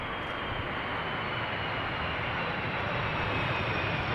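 Surinam Airways Airbus A340 landing at Amsterdam Schiphol Airport, heard as a steady, loud broadband jet engine roar that holds constant and swells slightly toward the end, with no talking.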